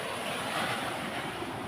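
Strong typhoon wind roars steadily in a dense, unbroken wash of noise, buffeting the microphone without pause and with no voices.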